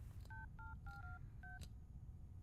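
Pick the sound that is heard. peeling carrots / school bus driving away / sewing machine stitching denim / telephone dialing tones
telephone dialing tones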